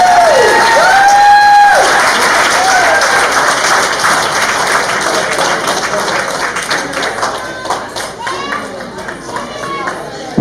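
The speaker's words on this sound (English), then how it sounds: "a huge round of applause for Erica and Chad." Wedding guests applauding the couple, loud sustained clapping with cheers and whoops, crowd voices mingled in and fading toward the end.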